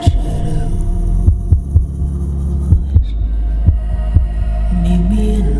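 A steady heartbeat thump pulses through a song, paired double beats recurring about once a second under a low humming synth bed and a sustained vocal line.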